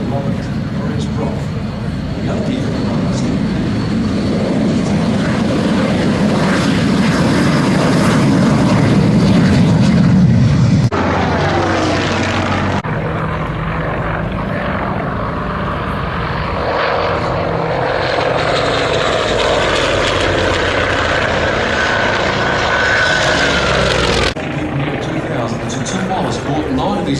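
Vintage warbird propeller aircraft at an airshow, a loud droning engine roar that swells as it passes overhead and then fades, with an announcer talking over a public address.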